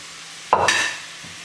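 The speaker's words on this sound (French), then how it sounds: "On va maintenant rajouter les champignons." Mushrooms tipped into a pan of shallot and onion over very low heat give a sudden soft rustling sizzle that swells for a moment and then fades to quiet, with no talking.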